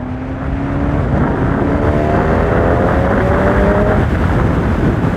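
A Honda CB1000 Hornet motorcycle accelerates hard with quickshifter gear changes, its engine note climbing in steady rising sweeps, loud and continuous with no voices.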